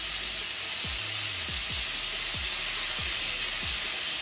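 Pointed gourd (potol) slices frying in a pan, a steady loud sizzle with a few soft scraping clunks as the pieces are turned at regular intervals, no talking.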